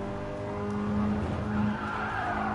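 Race car tires skidding and squealing in a racing video game, a steady screech layered over engine drone for a couple of seconds, loud and close with no talk.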